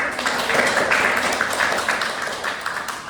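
Classroom audience clapping after a timed round of a student group debate on Indonesia's new capital, IKN, for a public-sector accounting course; a dense, steady patter of many hands lasting about three seconds.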